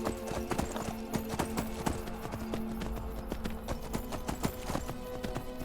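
Horse hooves clip-clop steadily along a road in the fantasy video game Skyrim, a fast, even rhythm of hoofbeats close by over game music, with no talk.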